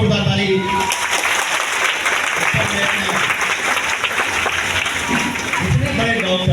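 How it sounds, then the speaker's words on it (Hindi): Loud, sustained applause from a large audience at an indoor business event in Latehar, Jharkhand, a dense wash of clapping that fills the room steadily from start to end. "जोरदार ताली"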